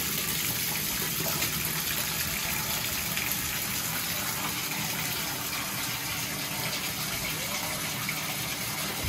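Fresh water gushing steadily and loudly for ducks brought indoors, a continuous broadband pour with no pauses and no voices.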